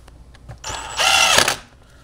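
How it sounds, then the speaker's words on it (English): On a Toyota Tundra, a powered driver runs a screw in to mount a USB outlet: one short, close whirring burst that rises in pitch briefly before stopping, set against a quiet background. "now we can install the three screws"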